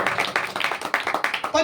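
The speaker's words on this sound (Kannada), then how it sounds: "ಚಪ್ಪಾಳೆ ಕಡಿಮೆ ಜೋರ" A church congregation claps steadily in rhythm during a worship service at Calvary Preeti Ministries in Bidar, with sharp, even beats sounding close and mixed under a voice.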